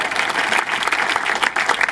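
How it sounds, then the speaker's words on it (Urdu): A church congregation claps together in sustained, dense applause, loud and close, filling the space evenly without pauses. "اپنے لیے تالیاں بجائیں"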